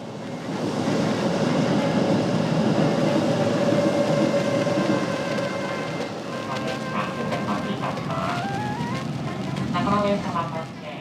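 A Sanyo Electric Railway train between Kobe and Himeji rumbles along steadily with a broad rolling roar, then squeals and clatters as wheels grind on the rails; no talking stands out.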